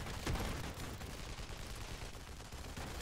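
Shotgun fire in The Expendables 2 video game, dense and continuous gunfire crackling throughout amid a busy, noisy battle mix with no clear separate blasts.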